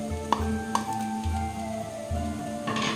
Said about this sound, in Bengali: খুব ভালো করে এবার ভাতের সাথে মিশিয়ে দেবো